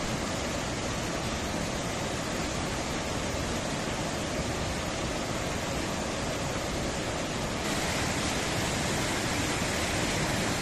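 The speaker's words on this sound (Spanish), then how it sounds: "Este es el encuentro de dos ríos, el Coyol y el Dos Caminos." River water rushes at the meeting of two rivers, the Coyol and the Dos Caminos, in Yecuatla, Veracruz, Mexico. A loud, constant broadband roar of flowing water fills the whole stretch with no speech, and it brightens slightly near the end.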